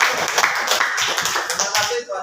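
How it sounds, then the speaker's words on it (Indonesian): A small class audience claps briefly after a student group's presentation in a classroom, uneven, fairly close hand claps mixed with some murmuring voices. "Ya, tepuk tangan."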